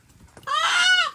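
A local chicken in Wakka Village, Arunachal Pradesh, lets out a single close, loud, drawn-out squawk lasting about half a second after a few faint rustles, with no voices.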